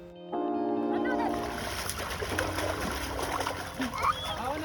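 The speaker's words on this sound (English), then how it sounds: "we were just splashing water on each other" Children splashing water on each other at a ghat, water sloshing continuously, with a tonal whine at the start and faint background voices mixed in.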